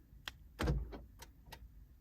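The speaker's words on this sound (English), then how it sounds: "this is the spare key fob, so this should lock the doors" A spare key fob locks the doors of a Honda Civic EP3, giving a sharp click and a heavier thunk of the locks engaging, then a few lighter clicks, close and fairly quiet.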